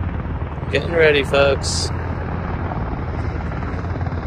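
A military helicopter during an IDF army operation, its steady rotor and engine roar filling the background throughout while someone speaks briefly near the start.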